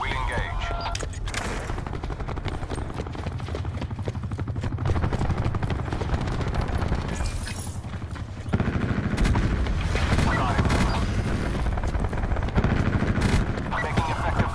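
Attack helicopter and gunfire in the video game Call of Duty: Black Ops 4, with sustained rotor noise and bursts of automatic fire in a busy, loud battle mix, game radio voices talking over it.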